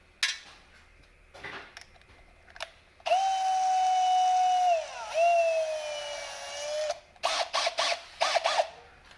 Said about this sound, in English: I'm going to chamfer that bolt hole.